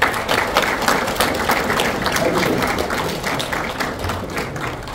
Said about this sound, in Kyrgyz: Кол чабуулар менен.